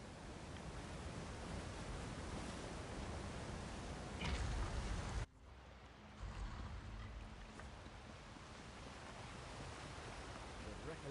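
A waterfall in the game The Elder Scrolls Online pours as a loud steady broadband rush, cut off abruptly midway and resuming slightly quieter with faint talk beneath.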